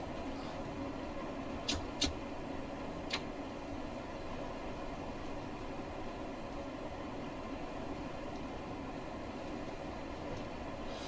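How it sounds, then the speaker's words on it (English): A train in the video game Train Sim World 2 runs past in a steady low rumble and hiss, with a few sharp metallic clicks near the start. The sound stays even and fairly quiet throughout. "The other train did come in fast"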